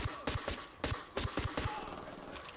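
Pistol gunfire in the Ghost Recon Wildlands video game: a rapid series of about eight sharp shots in quick succession, fairly close, followed by a brief quieter tail.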